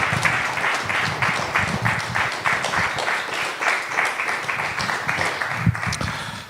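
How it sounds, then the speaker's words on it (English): Loud, sustained applause from a crowd, many hands clapping close and continuously, with occasional louder claps standing out near the end. "Just give me a round of applause."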